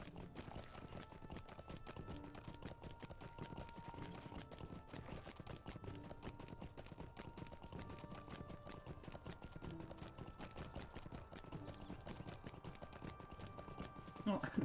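Horse hooves clip-clop in a steady, quiet rhythm while riding in the online game Lord of the Rings Online, with a soft game soundtrack underneath.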